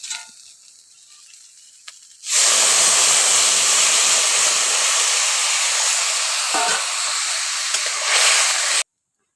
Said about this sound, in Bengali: এবার পরিমাণ মতো জলটা দিয়ে দেব।